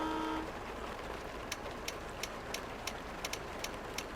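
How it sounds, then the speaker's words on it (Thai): A short, tonal horn blast from a Freightliner Cascadia truck in Truck Simulator Ultimate sounds once at the very start and cuts off quickly. A faint, evenly paced ticking follows over quiet background noise. "นี่คือเสียงแตรนะครับ"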